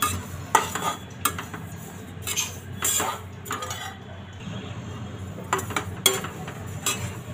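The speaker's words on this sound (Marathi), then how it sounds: "मंद गॅसवरच मी ही छान भाजून घेते" Sesame seeds dry-roasting in a kadhai over a low gas flame for til laddu, stirred with a metal spoon that scrapes and clinks against the pan in irregular bursts, close by, over a soft background hum.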